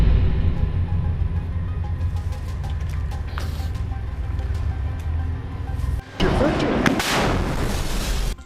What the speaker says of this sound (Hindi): अल कासिम के लड़ाके खंडहर पड़ी इमारतों में छिपकर सामने से आ रहे इजरायली टैंकों पर रॉकेट से वार करते हैं